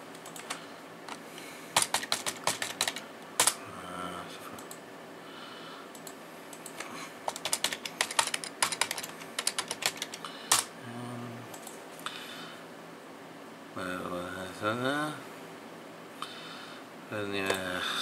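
Computer keyboard being typed on while entering a name, password and security question during Windows 10 setup, quiet bursts of rapid key clicks with pauses, a voice talking between them.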